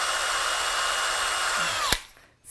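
A DeWalt DCD995 18V cordless drill with some issues whines at a steady high pitch close by, then stops with a sharp click and spins down to silence.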